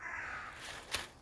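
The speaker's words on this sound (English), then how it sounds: "Crows coming into roost and pigeons." Crows cawing as they come into roost in woodland, faint and distant, with one brief caw standing out against a quiet outdoor background.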